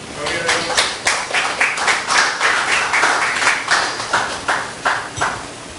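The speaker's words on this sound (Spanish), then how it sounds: "Bríndele un fuerte aplauso al Señor." Congregation at a church service clapping steadily for the Lord, a loud, continuous run of claps with a regular rhythmic pulse throughout.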